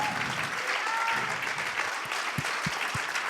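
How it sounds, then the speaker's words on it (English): Audience applause at a South Summit startup conference, a dense patter of clapping from a crowd that carries on steadily and thins toward the end, with a few louder single claps standing out. "So I want to give a big applause to them because they're doing a big effort here."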